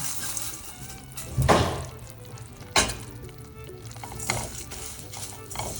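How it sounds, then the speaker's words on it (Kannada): Poha is tipped into melted jaggery in a pan on the stove, giving a few soft sizzling thumps and stirring scrapes at close range, with a faint sizzle continuing between them. "ಕಂಪ್ಲೀಟ್ಲಿ ಬೆಲ್ಲ ಕರಗಿದ ಮೇಲೆ ಇವಾಗ ಅವಲಕ್ಕಿ ಹಾಕೋಣ."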